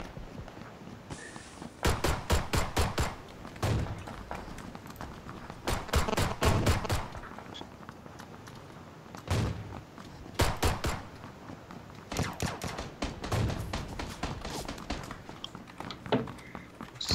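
Rapid bursts of PUBG gunfire crack out in several clusters, sharp and loud, with quieter stretches of background noise between volleys.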